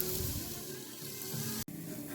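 Onions sauté in a pot for chowder, a steady close hiss and sizzle that keeps going for a couple of seconds, broken by one brief dropout.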